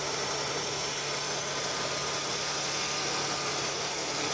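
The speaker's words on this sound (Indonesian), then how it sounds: "Ini suara mesinnya, kondisi mesinnya." A BMW E36 320i with an M52 B20 engine idles steadily before a tune-up, a constant mid-range hum with faint vibration, close and with no voices.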